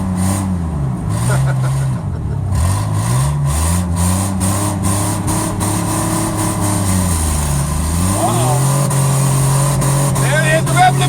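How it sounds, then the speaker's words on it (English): Car engine bouncing off the rev limiter, a loud steady drone with wavering pitch and repeated dips, close and continuous throughout, with other engine noise mixed in. "There it is, the rev limiter, baby!"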